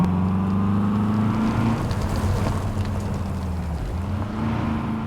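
A Volkswagen Amarok engine in Euro Truck Simulator 2 drones steadily, its pitch rising and dipping as it revs on a dirt road, with a whirring hum and no talking.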